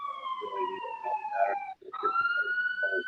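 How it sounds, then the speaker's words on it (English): A siren wails loudly, its tone slowly shifting, with a brief break partway through as voices murmur underneath. "Some sirens."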